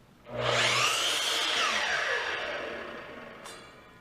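A saw cross-cutting a wooden block to square its edge, one sustained close whining cut lasting about three seconds before it trails off, with a brief knock near the end.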